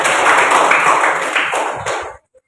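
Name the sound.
classroom applause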